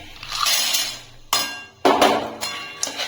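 Nuts tipped into a pan of fully melted sugar caramel land with a few sharp clinks and rattles, three or four distinct bursts close by, with no talk over them.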